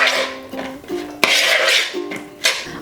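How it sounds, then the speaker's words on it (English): A large spoon stirs a black bean and corn salad with lime in a bowl, making close clinks, scrapes and soft knocks in an irregular rhythm. "I'm gonna use the bigger one to stir this up."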